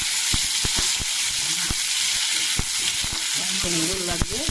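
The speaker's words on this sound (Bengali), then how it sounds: "এরপর বেগুন আর আলু তেলে দিয়ে দিলাম" Brinjal and potato pieces fry in hot oil with a steady, loud sizzle and frequent sharp pops and spits, all close up with no voices.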